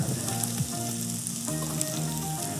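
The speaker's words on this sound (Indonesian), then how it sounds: "Kita saute mirepoix yang terdiri dari onion, carrot," Mirepoix of diced onion, carrot and celery sautéing in butter in a pan, a dense continuous sizzle and crackle close by with a few stirring scrapes, steady throughout, no talking.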